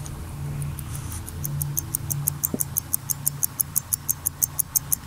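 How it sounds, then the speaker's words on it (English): A pocket watch ticks softly and steadily, a regular series of light, pinging clicks close by over a quiet room hum. "there's this like really gentle pinging ticking noise"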